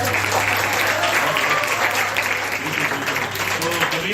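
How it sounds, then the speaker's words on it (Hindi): Audience applause at a Hindi literary society's Hindi Day and session-opening function, a dense steady wash of many hands clapping at close range, with some voices mixed in and a low hum underneath. "एक बार ताली बजाइए।"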